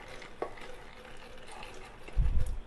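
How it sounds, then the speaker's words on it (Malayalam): Green gram is tipped into a cooking pan while Kerala-style sukhiyan is being made: quiet scraping and stirring, then a short, soft rattling thud as the grains land near the end, with no voices. "ഇപ്പോൾ ചെറുപയർ ഇട്ട് കൊടുത്തിട്ടുണ്ട്."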